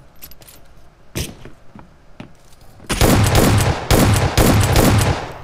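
Shotgun fire in the mobile battle-royale game PUBG Mobile: a few scattered sharp clicks and single cracks, then a loud rapid string of booming blasts firing in quick succession, close and heavy.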